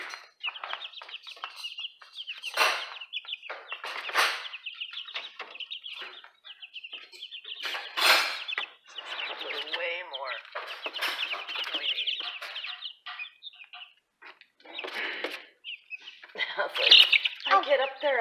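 Two-week-old chicks, including an Easter Egger, chirp and cheep in high, busy bursts that overlap at close range, with some clucking mixed in and occasional quiet gaps.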